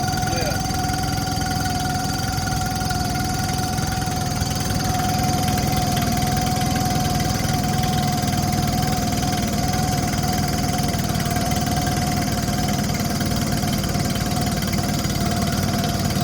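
A Yamaha outboard motor runs at a steady idle after its water pump impeller was replaced, with a constant close drone and a faint high whine over it, unbroken throughout.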